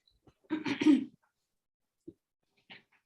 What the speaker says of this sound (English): since when are you coughing